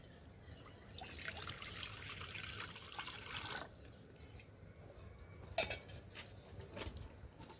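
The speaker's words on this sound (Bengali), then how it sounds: "কড়াইয়ে জল দিয়ে দেব।" Water is poured into a kadai on a lit stove, a soft trickling splash that swells for a few seconds then tapers off, followed by a couple of faint metallic knocks in a quiet kitchen.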